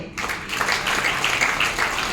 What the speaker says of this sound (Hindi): इन 3 लोग 4-5 लोगों एक बार जोरदार तालियां बजाओ